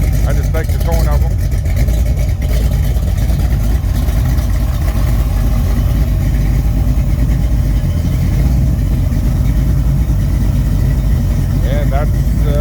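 Mopar 408 stroker V8 with Speed Master heads and Summit mufflers, fitted to a 1970 Dodge Dart, idling in a steady loud low rumble throughout while someone talks over it.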